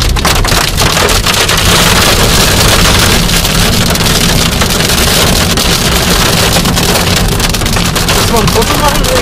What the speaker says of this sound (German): Das ist Hagel.